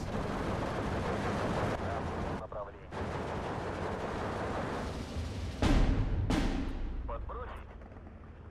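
Mortar fire in the WW2 strategy game Steel Division 2, with heavy booming blasts and rumbling battle noise throughout and a couple of sharp impacts near the end, while someone talks over it.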